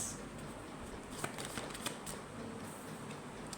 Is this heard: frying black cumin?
no